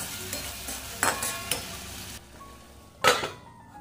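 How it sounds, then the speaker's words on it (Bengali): Okra is stirred in a pan before water goes in: soft scraping and sizzling with a few clinks of a utensil against the pan, quiet and close, with no talking. "জল দিয়ে আমি ঢাকা দিয়ে দেব, ভালোভাবে নাড়াচাড়া করে নিই আগে।"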